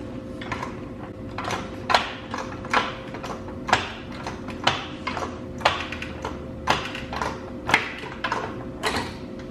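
Air ride suspension on a vehicle being compressed through its upward travel, giving a steady series of sharp mechanical clicks and knocks roughly once a second over a low hum, close and fairly loud.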